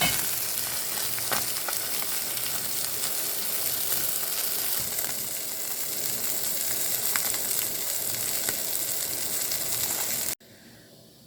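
Fish frying on a tawa, a steady close sizzle and crackle of hot oil with a few light scrapes of a utensil, continuous until it cuts off abruptly near the end.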